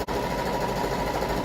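A sewing machine stitches fabric, running steadily with a continuous mechanical whir, loud and close, without pause.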